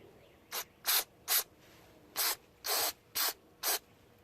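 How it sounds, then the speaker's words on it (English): Carburetor cleaner is sprayed from an aerosol can in seven short hissing bursts, some briefer and some held slightly longer, close and crisp, with near silence between them. "Almost use a whole can of carb cleaner on here."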